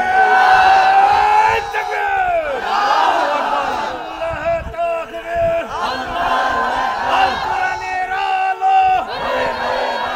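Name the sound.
crowd shouting takbir in response to a rally call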